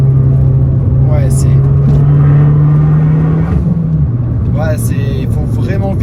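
An Abarth 595 Competizione, 180 hp and 940 kg, takes a tight curve with a loud, steady engine drone that shifts pitch partway through, while people talk inside the car.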